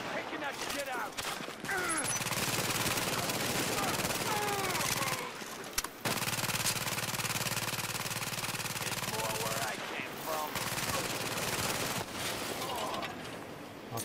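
A deployed turret firing steadily in The Division during a rooftop comm relay fight, a sustained dense burst of automatic fire running for several seconds, briefly breaking off and resuming, with a voice talking over it at times.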